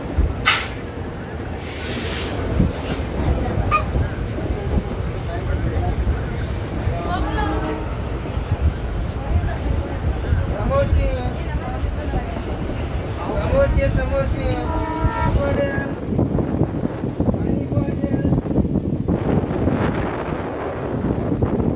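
A train hauled by a locomotive engine runs on the Nanded–Adilabad line, with a loud continuous rumble, an intermittent horn, hissing air brakes and microphone wind noise, while people talk over it.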